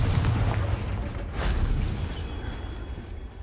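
A Confringo blasting spell explodes in Hogwarts Legacy, one heavy booming blast up front with a second softer burst about a second later, then a rumbling decay with no talk.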